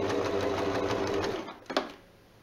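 A sewing machine runs a fast, steady whirring stitch along a parasol cover seam, then slows and stops with a short mechanical clack as the backstitch finishes, close and alone.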